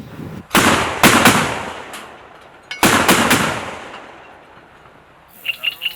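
Heavy machine-gun fire from a BTR-4 Bucephalus armored vehicle rings out in two loud, close bursts of rapid shots, each followed by a long echoing tail across open ground.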